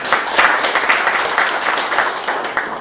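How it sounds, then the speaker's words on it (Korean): A room of village heads at a township training meeting in Yeoju applauds a city councilor, a steady burst of clapping from many hands lasting a few seconds. "우리 김희창 의원님께도 박수 부탁드리겠습니다"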